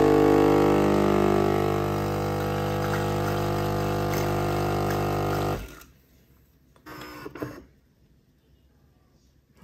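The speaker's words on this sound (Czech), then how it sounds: "když přístroj vypnu, tak se celý pročistí" A home coffee machine rinses itself after being switched off. A steady pumping, humming drone runs loudly for several seconds, then cuts out, leaving near silence with a few faint clicks and a brief soft rattle.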